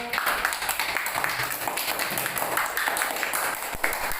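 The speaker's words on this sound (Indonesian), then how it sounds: "Tepuk tangan." Schoolchildren in a classroom clap after a discussion group presents, a busy patter of many small hands that stays fairly loud and uneven for several seconds.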